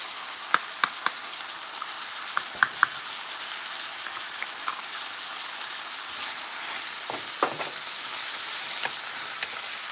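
Mixed vegetables frying for shrimp fried rice give a steady, dense sizzle with scattered small pops and crackles, moderately loud, with no talking.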